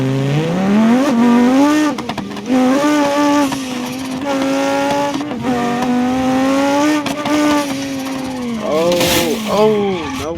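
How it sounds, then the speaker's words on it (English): Car exhaust in the BeamNG.drive driving game roars through rising and falling revs, with shifts and a brief tyre squeal, while someone talks over it. "It's got that nice exhaust."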